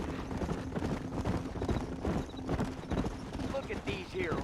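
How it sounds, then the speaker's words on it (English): Several horses clip-clopping on hooves in a Western video game, steady overlapping hoofbeats close by, with a brief whinny near the end and voices talking over them. "Look at these here horses."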